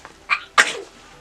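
One close, loud human sneeze: a quick sharp intake followed by an explosive burst that trails off, heard alone indoors.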